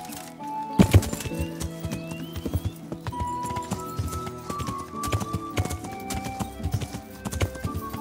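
Horse hooves clip-clop in the Kingdom Come: Deliverance video game, a close, uneven run of sharp knocks, some louder than others, with a whinny-like call and game music in the background.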